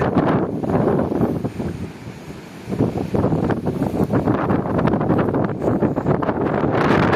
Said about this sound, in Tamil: காற்று அது அந்த அளவுக்கு இருக்கு.